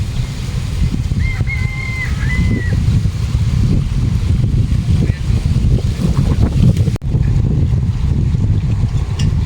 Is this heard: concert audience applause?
no